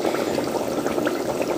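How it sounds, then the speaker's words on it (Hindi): Soaked, cut potatoes tipped into a pot of cooking meat for degi aloo gosht, giving a steady, close hiss of sizzling and splashing liquid that holds evenly for under two seconds with no voices. "अभी जो आलू मैंने पानी में भिगो के रखे थे काट के, तो अभी इस स्टेज पे मैं डाल देती हूँ आलू"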